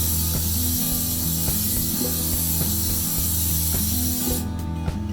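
A steady hiss of spray treatment being applied to a boat's canvas, continuous and close, with faint mechanical clicks and rubbing underneath, cutting off near the end.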